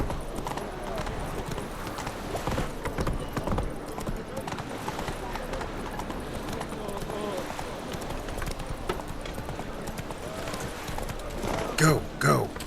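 Roach the horse galloping in The Witcher 3, a rapid rhythmic clip-clop of hooves running steadily, mixed under game dialogue and voices, with a brief snort or whinny near the end.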